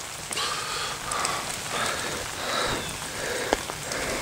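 Rain falls steadily on an umbrella outdoors on a rainy Alabama day, a close, dense patter with a few louder single drops, and no voices.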